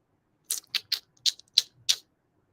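A person making mouth clicking noises to imitate a horse, six crisp tongue clicks in a steady rhythm, close and alone.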